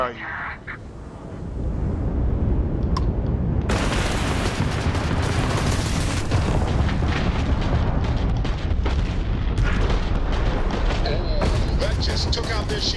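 Spaceship weapons open fire in Starfield space combat, a dense, loud stretch of rapid blasts and booms layered over engine rumble, with a voice talking at times.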